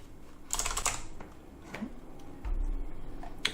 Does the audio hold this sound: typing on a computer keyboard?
yes